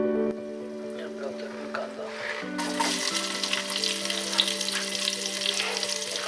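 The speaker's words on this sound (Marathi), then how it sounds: "कांदा आपण जरा ट्रान्सपरंट करून घेत आहे" Half an onion fries in a pot for mutton stock, a soft crackle that swells into a louder, steady sizzle partway through, with a faint electrical hum running beneath.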